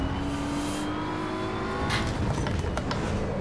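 Race car engine in Assetto Corsa EVO on the Nürburgring, droning steadily with a rising harmonic whine as it holds revs through a corner, brief sharper bursts near the end, no talk.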